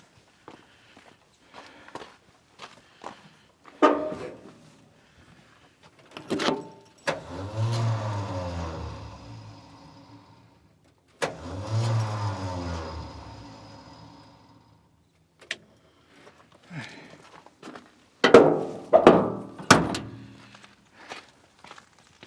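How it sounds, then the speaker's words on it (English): A Ford F600 truck's starter cranks at the ignition in two separate bursts of a few seconds each, grinding and whirring without the engine catching, with scattered clanks and footsteps around them. "Let me bump the ignition switch, see if it even turns over."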